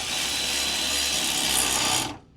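A swivel socket on a power tool runs bolts down while installing a ZK MasterTech high-performance feed accelerator, one steady close ratcheting whir lasting about two seconds before cutting off, with no talk.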